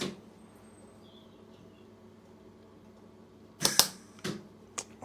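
A welder lays a few quick tacks on a BMW project car: after a quiet hum, three or four short, sharp crackling bursts sound close by in fast succession.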